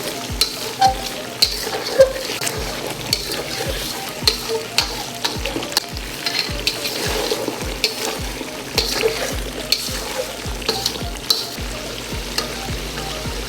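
Chicken and onion karahi gravy cooks in a pan with a dense, constant sizzle and bubbling, while a utensil stirs and scrapes in a quick, regular rhythm, close and fairly loud throughout.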